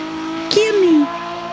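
A race car engine revs in a rising and falling whine with a brief squeal of tires, heard under people talking nearby.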